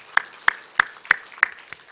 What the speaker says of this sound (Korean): 우리 박수로서 환영하겠습니다